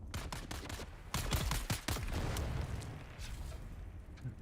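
Grenades go off in a rapid cluster during Dune: Awakening combat, several sharp cracks and thumps in quick succession at the start, then the noise thins into a rumbling tail with scattered smaller pops.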